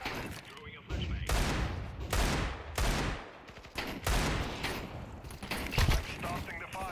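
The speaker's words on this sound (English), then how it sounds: "Throwing a flashbang." A flashbang grenade goes off in Counter-Strike 2 amid repeated loud bursts of game gunfire and bangs, several sharp broadband blasts close together over several seconds.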